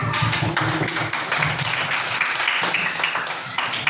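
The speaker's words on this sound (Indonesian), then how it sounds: "Oke, tepuk tangan untuk kita semua dong" Audience applause, a brief burst of dense clapping that stays loud and even throughout, with a voice faintly audible underneath.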